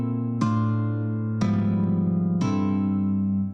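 Guitar playing a jazz chord progression, three chords struck about a second apart and each left ringing, close and clean with no voice over it.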